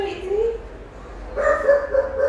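A small female dog gives a few high, whining yips and barks, close and fairly loud, with a short pause between two bursts.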